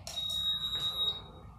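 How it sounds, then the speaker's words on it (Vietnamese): A Midea Mi K1917EF induction cooktop gives one long, steady electronic beep on being plugged in, lasting about a second over faint room noise. "khi chúng ta cắm điện vào thì bếp sẽ phát ra một tiếng bíp dài"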